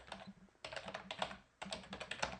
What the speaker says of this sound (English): oops, my keyboard